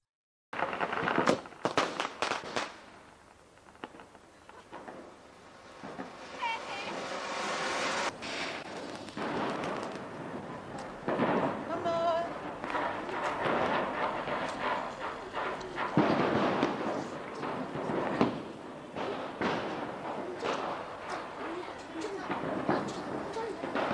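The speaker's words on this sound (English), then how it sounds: "they also celebrate it with fireworks" Fireworks and firecrackers crackle and pop in irregular bursts at a distance during a celebration in Darjeeling, India, with faint background noise throughout.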